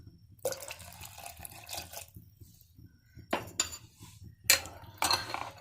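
Water splashes into yogurt batter for dahi bade, heard as intermittent liquid pours and drips in a kitchen with soft clinks from a bowl. No speech is heard.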